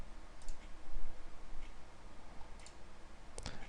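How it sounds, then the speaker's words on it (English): A few crisp computer mouse clicks, short and isolated, spaced out over steady background noise, with the sharpest double click near the end. "let's just click one and expand it again"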